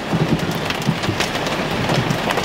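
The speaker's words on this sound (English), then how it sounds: "Oh my God, y'all. It's freaking hailing" Heavy rain and hail pound a stopped car on a Texas highway, a dense, steady roar of drops drumming close on the roof with scattered sharper hits throughout.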